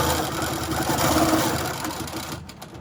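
A sewing machine stitches across a log cabin quilt, running steadily and close for most of the clip before slowing near the end.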